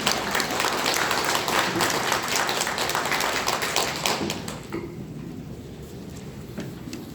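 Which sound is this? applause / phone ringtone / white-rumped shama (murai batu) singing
applause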